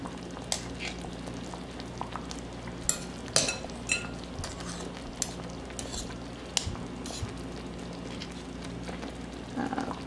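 A metal spoon scrapes, taps and clinks against a pot while sticky sancocho dough is worked and shaped, with scattered sharp clinks over a steady low kitchen hum and a faint sizzle.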